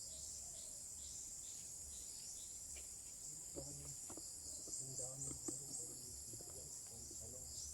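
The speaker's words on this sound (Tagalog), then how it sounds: "Insekto na so, sa ano hapon, daming lumalabas na insekto dito." Dense, steady chorus of crickets and other insects trilling in the afternoon outdoors, a continuous high buzz with faint bird chirps, while someone talks quietly partway through.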